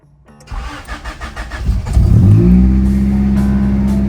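A Honda EF hatchback with a swapped D16Z6 engine cranks with a rapid starter whir, then catches and settles into a steady, loud idle right up close.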